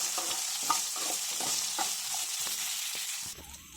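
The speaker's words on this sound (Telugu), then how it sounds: "ఇందులోని చింతపండు వేసుకొని మీడియం ఫ్లేమ్లో పెట్టి వేగనివ్వాలి" Green chillies and tamarind fry in a pan over a medium flame, giving a steady close sizzle broken by the scrape and clatter of stirring, with no voices.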